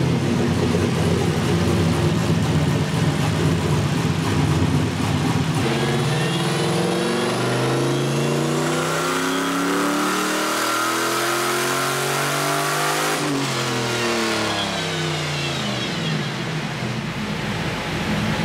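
An LSX-swapped big single-turbo Mustang on a hub dyno, its engine roaring loudly through a long rising pull with climbing pitch, then dropping sharply off throttle and winding down, close and sustained.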